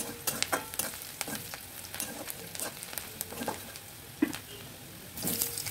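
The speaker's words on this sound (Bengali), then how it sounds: "পেঁয়াজটা একটু হালকা লাল করে ভাজবো।" Sliced onion fries in oil already left in the pan, giving a soft sizzle broken by crisp clicks and scrapes as it is stirred, alone with no talk.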